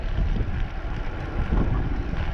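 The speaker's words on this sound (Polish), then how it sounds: "Coś tak wiaterek wieje." Steady wind gusting across the microphone outdoors during a long bike ride in the Polish countryside, a continuous low rumbling buffet that swells slightly around the middle and stays loud throughout.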